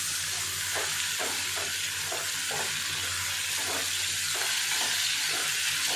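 Tomatoes sizzle and sauté in a hot pan with oil for a country chicken curry, a constant frying hiss broken by regular bursts of stirring, close and fairly loud, with no talking.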